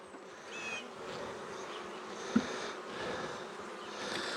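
Honey bees buzz around zombie hives, a soft continuous drone of many insects with individual bees passing close by, quiet and steady with a single faint knock partway through.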